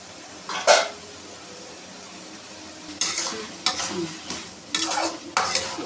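Dried anchovy curry base sautéing in a pan, heard as a soft, steady sizzle broken by scattered bursts of spoon strokes scraping the metal, near and clear, with no talking.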